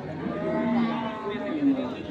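A dairy cow moos at the Ambari cattle market in Dinajpur, two drawn-out calls rising over a busy, murmuring crowd of traders and livestock, with voices talking faintly throughout.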